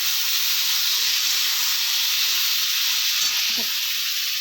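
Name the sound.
ridge gourd, green chili and tomato added to pan and stirred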